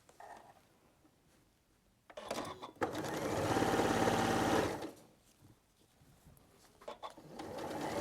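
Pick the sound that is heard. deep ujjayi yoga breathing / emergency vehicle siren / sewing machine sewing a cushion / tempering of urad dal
sewing machine sewing a cushion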